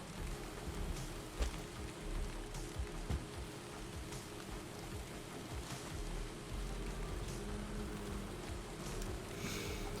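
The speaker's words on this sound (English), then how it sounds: "Unfortunately, it's raining right now in the Black Forest," Continuous in-game rainfall in the Valheim Black Forest, an even, moderate patter and hiss with faint low rumbling underneath, with no voices.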